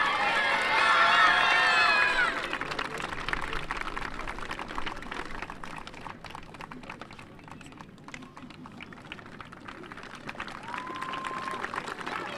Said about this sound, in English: One more round of applause for Ms. Feely's and Mr. Wilderman's 2023-24